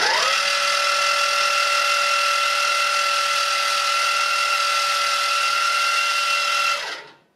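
A mill spins a 2.5 mm drill down into metal with a steady, high whirring whine that holds constant for several seconds before spinning down abruptly at the end.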